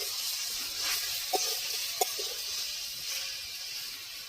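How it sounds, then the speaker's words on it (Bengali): Spices and beet salt sizzle in a pan while being stirred for a jujube pickle, a steady soft hiss with a couple of faint utensil taps. "একটু নেড়ে চেড়ে ভেজে নেবো ফুলটা।"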